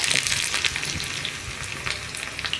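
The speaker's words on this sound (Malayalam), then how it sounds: "കടുക് പൊട്ടി കഴിയുമ്പോൾ നമ്മൾ റൗണ്ടിൽ കട്ട് ചെയ്ത് വെച്ചിരിക്കുന്ന ഉള്ളി ചേർക്കുക." Sliced onion rounds frying in hot oil with popped mustard seeds for a Kerala tomato curry, giving a steady crackling sizzle that runs continuously throughout.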